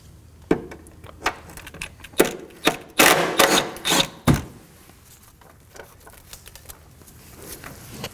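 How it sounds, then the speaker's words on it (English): Ratchet clicks and metallic rattles come in bursts, close up, while a 10mm bolt is loosened from a body bracket on a 2020s Toyota Corolla during front wheel speed sensor replacement. "I'm going to locate this bracket on the body of the vehicle and remove its 10mm bolt"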